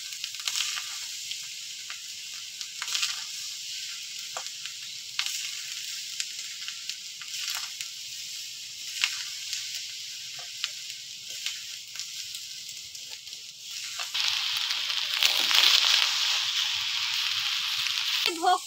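Kanika bhog, a sweet rice offering, being stirred and mixed in a hot pan: a continuous sizzle with periodic scraping strokes, growing louder and hissier toward the end.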